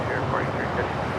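Frontier Airbus A320 taxiing across runway 25 right at Los Angeles International Airport, a steady distant jet engine rumble filling the background without a break.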